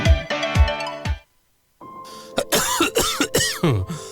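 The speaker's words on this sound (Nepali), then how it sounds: "खोक्न फेरि सुरु भयो है?" A person coughs three times in quick succession, harsh and close, followed by a short silence and then a bright tonal jingle.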